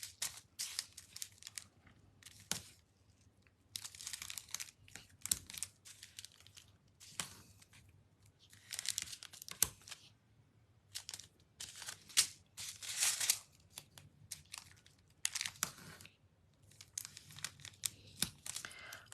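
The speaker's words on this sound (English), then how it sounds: "Now we're sticking tear and tape on the front again." Tear-and-tape double-sided adhesive tape being torn and peeled during card making, repeated sharp close ripping and crinkling bursts separated by short quiet pauses, no talking.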